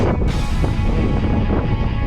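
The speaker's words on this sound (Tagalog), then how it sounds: "Malamig sa tuktok, mahangin." Strong, steady winter wind on the hilltop of Moel Famau, North Wales, buffets the microphone with a constant low roar and no pauses.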